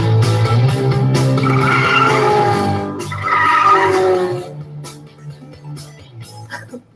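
A My Mini Race Car toy race car running with its wheels spinning, a loud close buzzing, whirring motor with squealing tones that surges twice, then fades into scattered clicks and rattles.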